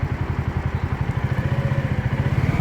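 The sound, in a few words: 250cc cargo motorcycle engine starting and running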